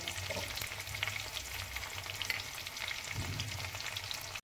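Yellow and red bell peppers stir-frying in a hot pan for lemon chicken: a steady, close sizzle with scraping stirs and brief louder clatters, and no talk.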